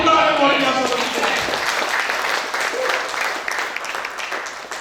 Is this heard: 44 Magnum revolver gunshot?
no